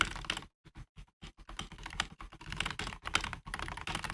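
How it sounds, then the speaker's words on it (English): Fast typing on a Wooting Two HE keyboard, its non-red switches giving crisp, close-up clicks in quick bursts separated by brief pauses, heard alone. "let me do a typing test"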